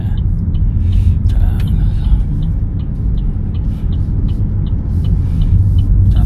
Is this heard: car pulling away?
yes